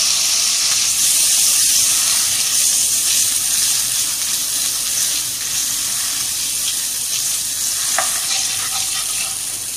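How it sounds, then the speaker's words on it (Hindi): Butter heats in a pan with a steady, loud sizzle that holds for the whole stretch, a bright fizzing hiss with faint bubbling and a small metallic tick near the end. "सबसे पहले हम पैन में मक्खन डाल लेते हैं"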